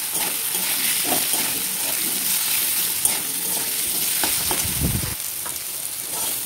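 Potatoes fry in a pan, giving a steady hiss and sizzle as they are stirred, with occasional scraping knocks and a brief louder rustle near the end, close and moderately loud.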